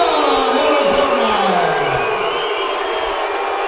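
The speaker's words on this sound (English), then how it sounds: "Tom, as you can hear the emotion in the crowd." A fight crowd roars and whoops right after a unanimous decision is announced, a dense wall of cheering and shouting that holds steady for a few seconds with no talk over it.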